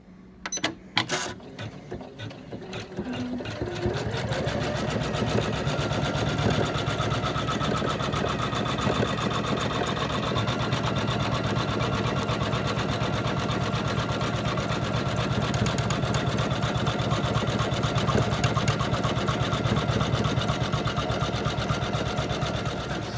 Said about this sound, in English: the next step is going to be the satin stitch that goes along each side of the inner rings